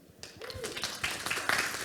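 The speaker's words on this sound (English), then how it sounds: "Let's give him a round of applause." A crowd at a corporate tech event applauds as a speaker walks on stage. Dense clapping builds quickly and holds steady, with a faint voice briefly audible underneath.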